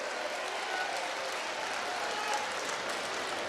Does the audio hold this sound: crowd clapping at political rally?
yes